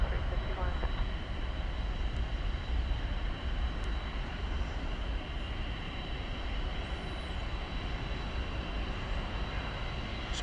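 A Turkish Airlines Boeing 787-9 Dreamliner at DFW airport gives a broad, steady jet roar at night, distant and even throughout with a faint high engine whine above it.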